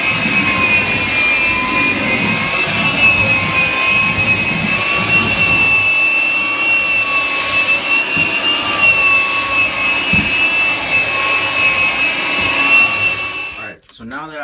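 Floor sanding machine running with 80 grit paper on hardwood flooring, a loud steady whining drone with a high tonal hum held for about thirteen seconds before cutting off abruptly.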